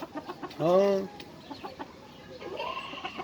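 A broody hen on a farm clucks in a loud, drawn-out call followed by softer repeated clucks, with a brief vocal interjection from a person nearby.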